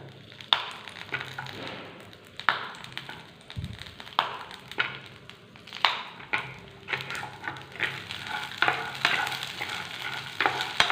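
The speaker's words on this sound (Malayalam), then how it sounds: "ഈ 5 പച്ചമുളക് ഇതിലേക്ക് ചേർത്ത് കൊടുക്കാം." Green chilies frying in a pan for chutney, with repeated stirring scrapes and spoon taps over a low, steady sizzle, close and fairly quiet.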